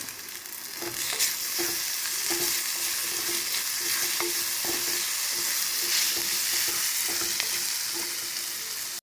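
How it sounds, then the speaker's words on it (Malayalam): Onions sautéing with salt in a pan hiss and sizzle steadily throughout, close and loud, with soft scraping stirs breaking in at intervals; no voices are heard. "ഉപ്പിട്ട് നന്നായിട്ടൊന്ന് വഴറ്റാം"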